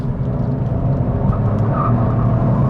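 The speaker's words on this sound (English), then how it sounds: "I'll turn the stability control completely off, see if we can get some wheel spin happening" A 2019 Kia Picanto GT with a 1.0 turbo engine accelerates hard in second gear with stability control off and some inside wheel spin, a steady loud engine drone and road rumble heard from inside the cabin throughout.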